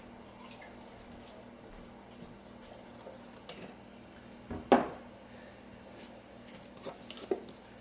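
Water runs softly into a pot on the stove while potatoes and salt are cooked, a low steady trickle punctuated by a brief louder splash and a couple of later clinks.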